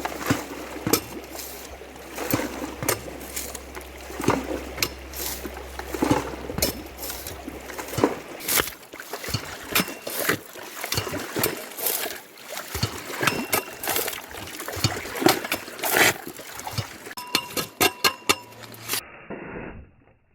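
A yabby pump sucks water and gravel off bedrock at a gold-prospecting spot, giving a continuous wet rush with repeated splashing and gurgling surges close by, with no talking.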